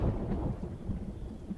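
Thunder rumbles low through steady rain, a dull rolling boom heard faintly and at a distance without any voices.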